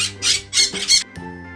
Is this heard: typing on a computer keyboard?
no